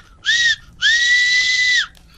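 A person mimics a steam train whistle with the voice, giving a short shrill blast and then a longer, sustained one, loud and close with nothing else around it.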